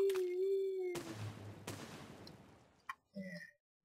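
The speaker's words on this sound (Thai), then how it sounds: "แต่ทีนี้พอถึงเป้าหมายกะตำแหน่งแล้วก็ทิ้งระเบิด" In the building game Besiege, bombs dropped from a plane burst on the ground as a pair of sharp impacts with rumbling decay, followed by faint crackling and a short tonal blip, all fairly quiet.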